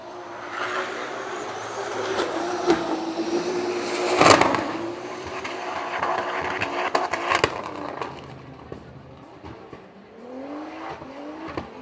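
Toyota Yaris GR drift car with a 2JZ engine drifting at a Riga Drift Masters practice session, engine wailing and rising in pitch with tire squeal and skidding, a loud burst midway, then fading with another car approaching.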